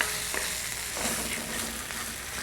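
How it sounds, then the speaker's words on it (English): A coconut sauce simmers in a pan, giving a soft, continuous bubbling sizzle with faint scraping as it is gently stirred, quiet and steady with no voices. "Now gently stir your delicious brew here, which is simmered down a little bit."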